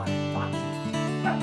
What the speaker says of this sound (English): all the neighborhood dogs would start barking